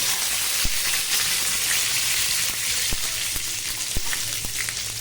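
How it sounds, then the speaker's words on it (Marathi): Mustard seeds and curry leaves sizzle steadily in hot oil for tempering, with sharp little pops and crackles scattered throughout, close up and with no talking. "आणि ही जी फोडणी आहे मस्त अशी तडतडली"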